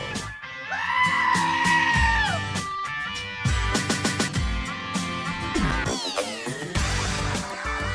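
A screaming goat sound effect plays over the radio: loud, drawn-out bleating screams repeat among busy musical, percussive sounds, with no talking.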